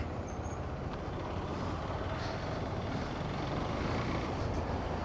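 Dense road traffic with trucks on the way from Chittorgarh to Jaipur, a continuous heavy rumble of engines and tyres with faint high tones mixed in, steady and loud throughout.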